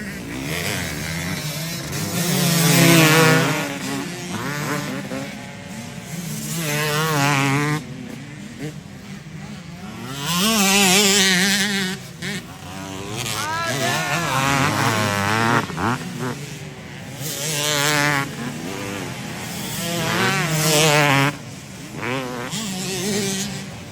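Two-stroke motorcycle engines rev and buzz at a two-stroke world championship racing gathering, loud and near, with repeated rising and falling throttle blips and overlapping engines.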